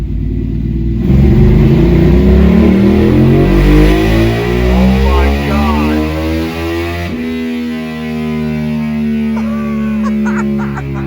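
A custom Ducati Monster 1200 motorcycle engine revs hard on a dyno, its loud, distorted roar climbing steadily in pitch through a long pull, then dropping after a shift before building again, with excited voices faintly under it.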